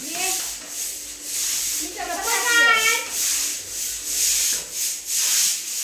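A clothes brush scrubs across household furniture during cleaning, giving a soft, continuous rubbing and brushing sound close by, with brief background voices and a short whistling tone mixed in.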